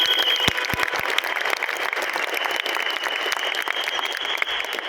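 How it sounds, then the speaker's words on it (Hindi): Loud, steady applause from an audience at a profile launch event, dense clapping sustained for the full stretch with a few sharp individual claps standing out near the start. "एक बार जोरदार तालियां हो जाए"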